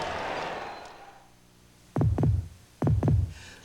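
A heartbeat sound effect in a Chevy truck commercial shown during a college basketball finals broadcast: after a fading wash of noise, two deep, loud double thumps arrive about a second apart, the heavy lub-dub beats standing alone.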